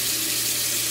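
Cold water runs steadily from a tap while someone washes their face, giving a constant hissing splash into the sink with no pauses.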